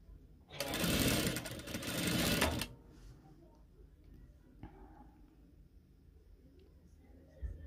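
A sewing machine stitches a one-piece prayer abaya in a short run of about two seconds of fast whirring, loud against a quiet room. After it stops, faint handling noises and small taps follow.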